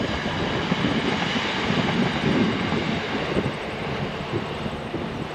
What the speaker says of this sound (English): And there goes the train now.